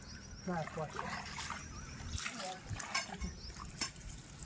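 Water trickles and splashes steadily, with faint voices and outdoor noise mixed in around it.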